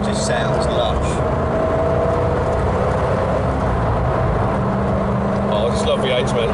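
A 1985 Porsche 928 widebody with its V8 engine running while driving, a steady broadband rumble with road and wind noise that holds level throughout and comes across close and continuous, with brief talk from people inside the car.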